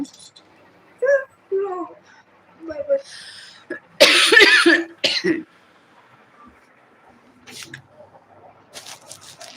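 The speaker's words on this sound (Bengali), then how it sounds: "কাশি হচ্ছে" A few short coughs and throat clearing sound close by, mixed with brief bits of talk and quiet background noise.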